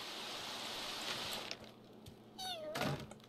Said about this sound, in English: I can sometimes hear that kitten.